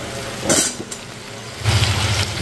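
Fried eggplant and potatoes sizzle in a pan, a steady close hiss broken by clinks and scraping of a utensil against the pan.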